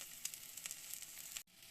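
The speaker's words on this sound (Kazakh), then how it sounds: "Әрбір яичницаны осылай табамызға қуырып аламыз" Eggs and sausages fry in a pan with a steady, quiet sizzle and scattered soft crackles, briefly cut off near the end before the hiss resumes, with no voices.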